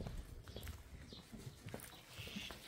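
A horse's hooves clip-clop at a walk in uneven, fairly close, moderately soft steps over faint background noise. No one speaks.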